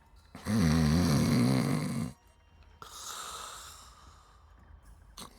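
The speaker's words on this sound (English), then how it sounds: "the snoring guy." A sleeping character snores in the Pillars of Eternity video game, giving one loud, rattling drawn-out snore and then a softer breathy exhale, close and with no talk.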